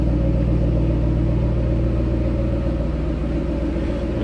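A steady, deep, throaty engine rumble from a 2012 Ford Mustang Shelby GT500 idling, continuous and fairly loud with no voices.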